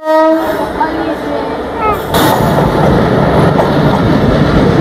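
A passenger train's horn blares loudly at a railway crossing, a sustained tone that cuts off after a moment. A roaring rush of passing rail cars follows, with faint clatter under it.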